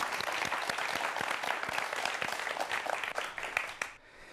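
A lecture audience claps warmly for a talk on medical technology against new viruses, a thick, steady burst of hand claps that thins and stops abruptly near the end.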